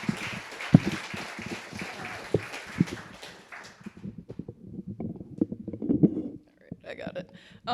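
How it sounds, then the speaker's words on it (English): An audience applauds at an evening spoken-word event: a broad wash of clapping that builds and fades over a few seconds, with someone talking over and after it. "Let's give another round of applause for Matakis Tarrant."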